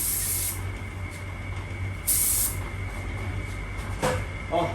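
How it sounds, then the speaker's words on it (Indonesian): A modified F3 spray gun running at 2 bar gives off a steady, close hiss of air and paint, with brief louder surges partway through. "Kita coba semprotin ke sana."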